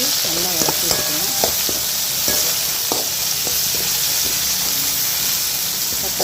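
Tomatoes and onions sautéing in a hot pan for a chicken pepper fry, giving a loud, steady sizzle broken by frequent scraping stirs of a spoon against the pan.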